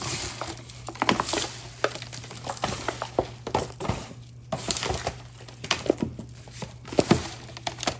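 Black pepper seasoning gets mixed into raw chicken wings by hand, giving an irregular run of soft, wet pats, squelches and crinkly rustles that stays close and fairly quiet throughout.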